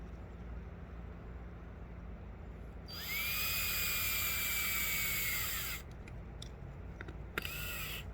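A power drill used while replacing railroad ties on a hill track lets out a loud, steady high-pitched whine that holds for about three seconds and winds down. Outdoor noise and a few faint clicks surround it.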